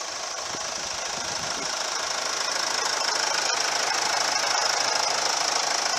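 A Mercedes-Benz E250 BlueTEC 4MATIC with a 2.1-liter twin-turbo diesel idles steadily, its close, even clatter and hum unbroken, with a couple of sharp clicks near the end.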